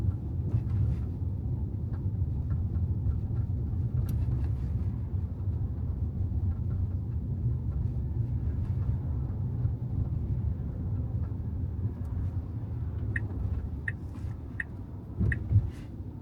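A 2025 Tesla Model Y Long Range AWD electric car drives along a road in Dusseldorf at low speed, giving a steady low rumble of tyre and road noise with no one speaking.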